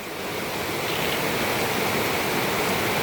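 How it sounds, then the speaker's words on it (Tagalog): Heavy rain pouring outside in steady, dense hiss, a loud unbroken wash of noise with no pauses and no voices. "Malakas ang ulan."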